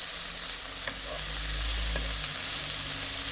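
Steady loud sizzling of snow peas and pork stir-frying in a hot pan, a continuous close hiss with faint stirring scrapes and no talking.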